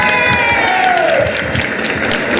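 An audience at an artists' competition claps and cheers loudly, a dense burst of applause filling the room, with a faint whistle sliding down early on.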